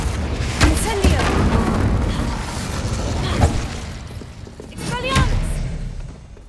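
An Incendio fire spell in the video game Hogwarts Legacy, heard as several thumping blasts and bursts with whooshing tails over a rumbling bed, alongside a voice speaking.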